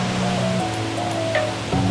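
Steady, loud rushing roar of Dry Falls waterfall in Highlands, North Carolina, a broad continuous wash of falling water close by with no break, and a faint tonal hum sitting under it.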